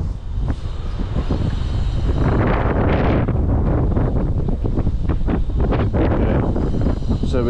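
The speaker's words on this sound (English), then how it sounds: "It's a bit windy." Gusty wind buffets the microphone high on church scaffolding outdoors, a loud continuous rumbling roar that swells and stays close throughout with no talk.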